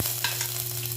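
Garlic sizzles steadily in hot virgin oil in a pan, a close, constant frying hiss with a low hum beneath.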